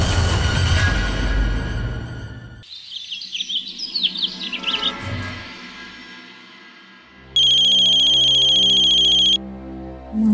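A mobile phone ringtone for an incoming call sounds loud and steady, a sustained electronic ringing that plays alone for about two seconds and then cuts off.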